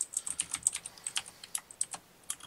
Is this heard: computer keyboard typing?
yes